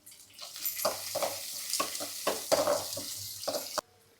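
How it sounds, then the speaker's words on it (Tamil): Onions, green chillies and curry leaves fry on full heat in a pan, loud spitting sizzle broken by repeated scraping stirs and clattering spoon strokes, stopping abruptly near the end. "நம்ம இப்போ வெங்காயம், பச்சை மிளகாய் போட்டுக்கலாம்."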